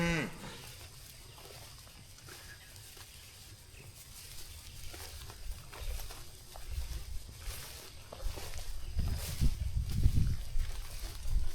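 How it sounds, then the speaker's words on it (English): Mother cows low and moo inside a barn on a rainy day, several calls rising louder toward the end over steady background noise. "Looks like all the mama cows are in here."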